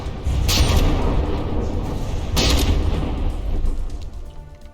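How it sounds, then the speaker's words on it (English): Heavy rumbling video game battleship explosions boom in the distance, with two sharper blasts standing out over a continuous low roar. "I thought I heard some secondary explosions"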